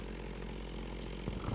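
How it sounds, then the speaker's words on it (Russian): A Minecraft modded electric chainsaw plays a steady, droning two-stroke engine sound while it cuts the base of a tall spruce, continuous and fairly quiet. "Несмотря на то, что пила электрическая, озвучка здесь явно двигателя внутреннего сгорания,"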